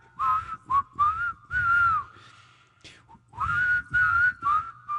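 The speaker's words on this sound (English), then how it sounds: "One playing the guitar so underneath it's like multi-track whistling." Layered whistled melody in a steady mid-high tone, several overlapping lines rising and sliding between phrases, over a low strummed guitar, fairly close and clear.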